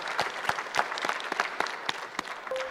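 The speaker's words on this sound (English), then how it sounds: "So I just want to give our presenters, all of our presenters, one more round of applause" Audience applause for the presenters at the close of a BIM conference session, a steady patter of many hands clapping with a few sharper individual claps standing out.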